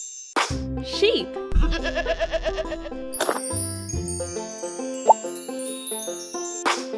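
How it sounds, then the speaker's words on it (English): A sheep bleats within a children's animal-sounds sequence, a wavering call heard among tinkling music and chimes, with a voice naming the animal. "Sheep."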